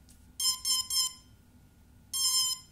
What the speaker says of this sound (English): After those two beeps, push it down.